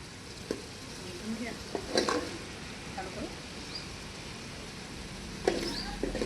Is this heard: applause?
no